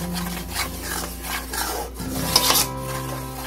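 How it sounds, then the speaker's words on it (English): Butter and flour stirred into a paste in a pan for macaroni and cheese, a close, steady scraping and rubbing with a brief louder burst near the end. "Put your tablespoon of flour in there and stir it up really good until it comes to a well paste."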